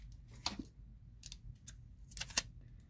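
Scissors snip paper for a planner layout in a series of quiet, crisp cuts, about four or five clicks spread irregularly over a few seconds in a still room.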